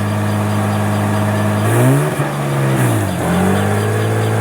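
A Lexus IS300 with a swapped manual gearbox revs up in first gear, its engine loud and close with a steady drone that rises and dips twice in quick pulls as the throttle is pressed.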